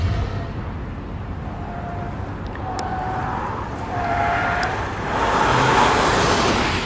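Police training car maneuvering around a barricade on a driving course, its engine droning steadily while tires give several short squeals that build louder toward the end, with no talking.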